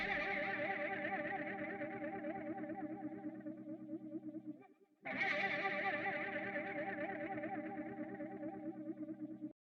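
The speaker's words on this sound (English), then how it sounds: "They have this preset called Mud Mojo, and it combines this interesting funk frog stomp pedal with fuzz and some EQ." Electric guitar through the Mud Mojo preset, a funk frog stomp pedal combined with fuzz and EQ: two long, sustained, gritty chords with a wobbling chorus-like shimmer, split by a brief gap midway.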